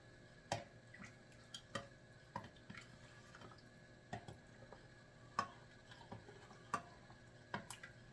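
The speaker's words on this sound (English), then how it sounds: "I'm going to stir with this ladle" A ladle stirring bouillon broth in a pot, with quiet, irregular clinks and taps against the metal scattered over a faint background, no talking.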